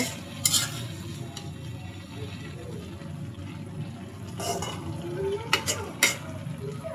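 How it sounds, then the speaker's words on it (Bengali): A pan fry of jackfruit seeds, potato, shrimp and vegetable stems is stirred, giving a soft simmering bed broken by several sharp scraping and clinking strokes of the utensil against the pan. "আমি ভাজিটাকে এখন নেড়ে দিচ্ছি"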